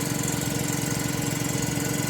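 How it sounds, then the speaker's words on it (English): A small Quincy air compressor runs steadily and loudly up close, with a continuous mechanical drone and a faint rhythmic pulsing that rises and falls slightly in level. "it's the quietest small compressor I've ever heard in person"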